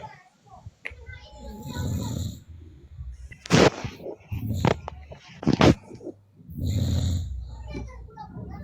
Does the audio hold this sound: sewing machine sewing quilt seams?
no